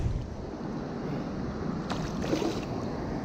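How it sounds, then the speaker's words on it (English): A loud waterfall on the Rocky River at the Rocky River Reservation, heard while fishing, produces a steady, broadband roar of rushing water. It is close and constant, with a little wind buffeting and no talking. "That waterfall is really loud."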